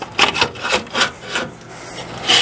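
Old steel fifth wheel trailer landing gear being worked loose from its snug bracket, giving repeated rough rasping and scraping rubs in uneven bursts, close and fairly loud, with no talk.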